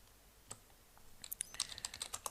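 Typing on a computer keyboard while entering a Perl hello world line, faint key clicks starting sparse then quickening into a steady irregular run of taps, close and quiet.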